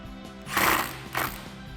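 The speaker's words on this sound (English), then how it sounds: "grab your 8 millimeter socket and we're gonna tighten down that clamp in the proper position" Ratchet with an 8 mm socket tightening a hose clamp on a cold air intake for a Dodge Challenger HEMI, heard as two short, close bursts of rapid ratcheting clicks.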